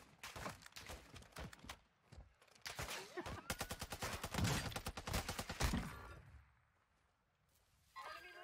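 Rapid bursts of automatic gunfire in Warzone 2 on Ashika Island, dense crackling volleys building to a loud peak before tapering off, then a brief return of shots near the end.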